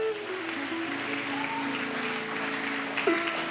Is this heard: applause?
yes